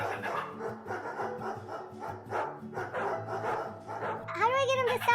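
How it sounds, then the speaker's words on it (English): A pet dog barks and yips repeatedly indoors, short bursts that are fairly close, heard beneath a steady spoken voice, with a sharper cluster of barks near the end. "How do I get him to stop barking?"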